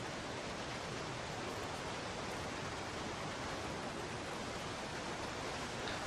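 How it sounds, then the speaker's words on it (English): Steady roar of a waterfall in The Long Dark survival game, loud and near, an unbroken wash of falling water with no talking over it. "Okay, got some kind of waterfall up here."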